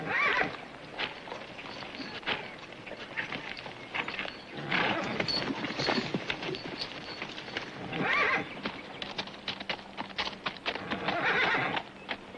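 Horses neighing and whinnying amid clip-clopping hooves in a classic Western setting, repeated loud whinnies over a busy, uneven patter of hoofbeats, with a faint voice now and then.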